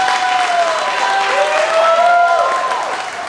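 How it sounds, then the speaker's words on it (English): Audience applause at a live-streamed recovery event, a dense round of clapping from a crowd with some cheering, steady and fairly loud throughout, with faint voices and tonal sounds mixed in beneath it. "can we please give a round of applause for Haley and Jimmy Queen?"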